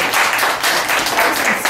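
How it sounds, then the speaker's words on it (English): Audience clapping at a performance of traditional Ugandan dances, a loud, continuous burst of applause filling the whole moment. "better clap for the organization"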